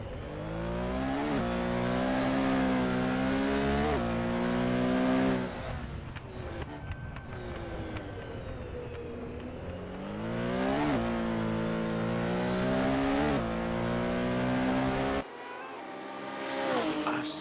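Race cars at a Le Mans exhibition event scream past and rev hard, engine notes rising through repeated gear changes, loud and close, with a brief lull mid-way before more cars accelerate through; no speech.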